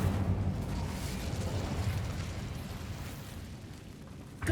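An Incendio fire spell cast in Hogwarts Legacy gives a roaring whoosh of flame that swells, holds with a rumbling burst and slowly fades, ending in a short sharp pop.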